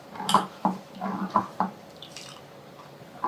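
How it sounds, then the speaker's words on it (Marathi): Water is poured into a pot of corn soup with carrots, green beans, salt, pepper and corn kernels, giving a handful of separate splashy drips and plops at moderate volume, with no talking. "आणखी पाणी वाढवते"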